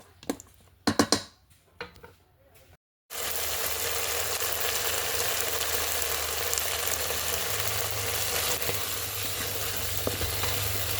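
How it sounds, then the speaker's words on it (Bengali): Dove meat sautés in a pan: a few light clinks and handling sounds, a brief pause, then a loud continuous sizzle that holds steady to the end, with faint stirring underneath. "এটাকে ভালো করে কষাতে হবে।"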